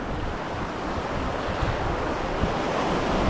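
Ocean surf and strong wind at a Hawaii beach make a constant, close roar of breaking waves mixed with wind buffeting the microphone.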